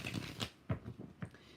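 A deck of tarot cards is shuffled up close, giving a soft, quiet run of riffling flutters with several brisk ruffles and taps spaced across a second and a half.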